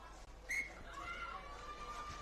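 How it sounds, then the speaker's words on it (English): A referee's whistle starts a women's rugby sevens match between Poland and Portugal at a European championship leg in Split. It is one brief, bright blast over steady crowd noise in the stadium. "she gets things underway with a blow on the whistle"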